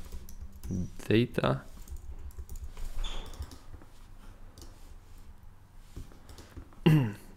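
Soft computer keyboard typing and clicks sit under intermittent speech from a nearby voice.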